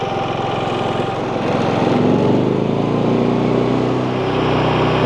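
GenMax 10500XiT generator engine running at high idle, a loud, steady buzzing drone that rises slightly in pitch partway through, heard alone.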